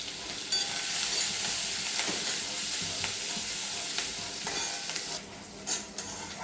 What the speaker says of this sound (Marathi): आता त्याच्यामध्ये मी कांदा घालून घेते। एक मोठा कांदा घेतलेला आहे तो घेते घालून